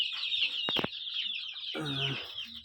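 Chickens on a poultry farm cluck and call, a bright chorus of hens with a few sharp, close vocal bursts and a rising throaty cackle near the end, all without speech.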